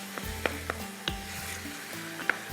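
Minced keema and spinach frying in a pan while being mixed, with a continuous sizzle broken by several sharp spatula scrapes and knocks at an uneven pace, close up and without talk.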